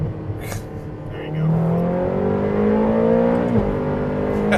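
A Ferrari California with a dual-clutch gearbox revs hard and loud up through its gears, the engine note climbing and dropping at each quick shift, close by and continuous.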